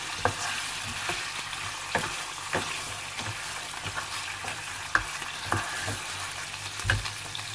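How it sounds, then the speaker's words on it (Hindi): Meat frying in a pan with ginger, garlic and cumin for a Pakistani aloo gosht, a steady close sizzle broken by repeated scraping stirs of a spoon against the pan. "गोश्त को अदरक लहसुन और जीरे के साथ भूनूंगी मैं,"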